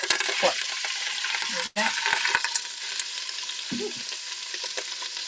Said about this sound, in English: we're going to add in our beef, and we're just going to sear our beef off, or our pork